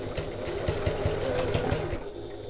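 A sewing machine runs steadily for about two seconds, its needle thumping in a quick even rhythm as it tacks bag pieces together, close and moderately loud before slowing and stopping.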